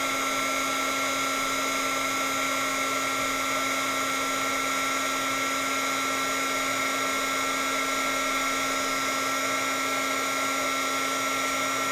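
Heat embossing tool blowing over a napkin card, a steady, loud electric whir with a high whine that holds unchanged throughout.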